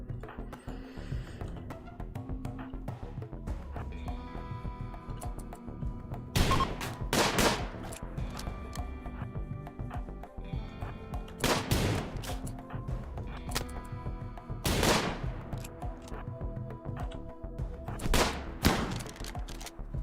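Shotgun fire in the video game RimWorld: scattered loud blasts at irregular intervals over a low rumbling game soundscape, with faint mechanical clicks between shots.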